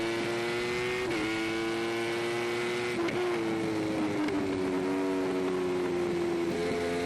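A superbike's engine recorded onboard during a MotoAmerica race at Alabama, loud and close, revving high with quick downshift blips and drops in pitch, then climbing again as the rider accelerates.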